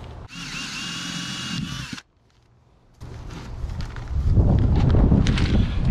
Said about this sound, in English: Now I'm going to drill a 5/8 inch hole through the tape, the outside liner, and the cardboard box